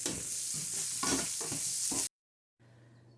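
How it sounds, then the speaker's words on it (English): Beef searing in a hot pan sizzles loudly and continuously for about two seconds, with bursts of spatter as the pieces are stirred and moved, then cuts out abruptly before a quiet low hum resumes. "I just wanted to sear them a little bit"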